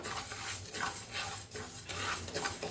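Rice dry-roasted in a pan for sambar powder, rhythmic scraping and stirring strokes with grains rustling against the metal, close and steady, no talking.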